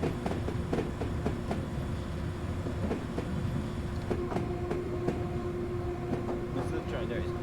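A London Underground District Line train running in Train Simulator 2019, a steady rumbling roll with faint rhythmic wheel clicks and a sustained tonal hum, with a voice speaking briefly over it.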